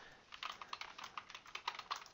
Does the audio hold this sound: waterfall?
no